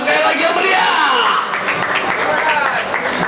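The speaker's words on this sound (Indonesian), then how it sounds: "Tepuk tangan sekali lagi yang meriah." An audience claps in a dense, sustained burst of applause that fills the whole stretch, with a voice talking over it.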